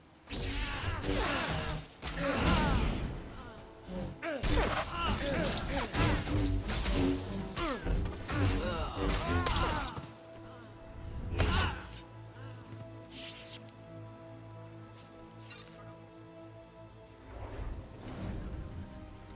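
Tank destroyed in a Star Wars game: heavy crashing blasts and thuds in a dense run for the first half, then one more loud smash over a quieter low rumble.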